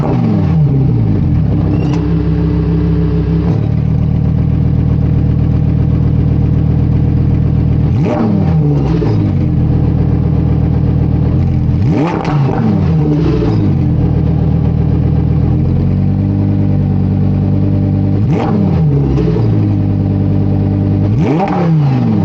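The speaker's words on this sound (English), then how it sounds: "I'm gonna let you hear a little bit of the revving from the outside" Lamborghini Huracan EVO Spyder with a naturally aspirated 5.2-litre V10, heard from outside the car, loud and close, giving several sharp rising revs that fall back to a steady idle between them.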